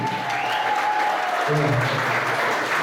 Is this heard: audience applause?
yes